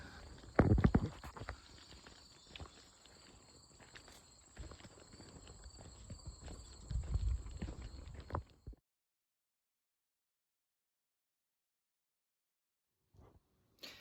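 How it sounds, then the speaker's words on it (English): Heavy cow hooves shuffling and thudding close by on soft ground along the Appalachian Trail near Whitetop Mountain, irregular steps under a faint steady hum, then silence. "Just me and more cows over here."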